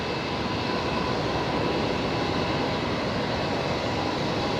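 A Qantas Embraer jet at Brisbane Airport produces a steady, loud engine roar, a constant broadband rush with no talking over it.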